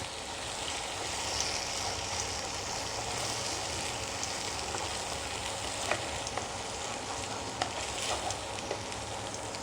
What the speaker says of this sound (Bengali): পেঁয়াজটা কিন্তু আমি খুব লাল লাল করে ভাজবো না, একটু ভাজা ভাজা করে নেব।